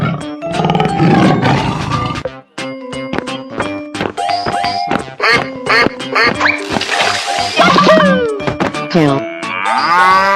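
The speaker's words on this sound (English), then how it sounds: "Tiger." A cartoon tiger roars in an animated animal crossing scene with a duck, cow, elephant and lion, loud and close amid a busy mix of other animal calls and music.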